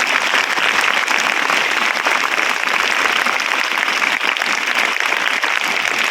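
Children applaud to welcome a guest chairman at a local team event, a loud, dense and continuous burst of clapping from a large group that holds steady from start to finish.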